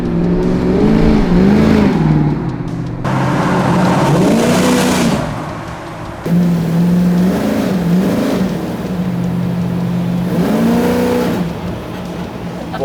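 The engine of a Jeep/Chevy Corvair 4x4 revs hard while driving, in several rising and falling bursts that climb and ease off in pitch. It is loud and close, a rough growl heard from inside the moving vehicle.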